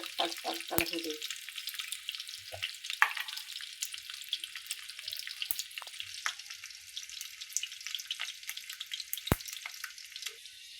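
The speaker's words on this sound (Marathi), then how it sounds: "तेलात असं टक टक टक टक त्याला होऊ द्यायचं." Chopped garlic crackling and popping in hot oil, a dense, steady sizzle with sharp crisp spits throughout, close and fairly loud with no talking.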